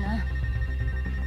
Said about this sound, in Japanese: あ、電話来た。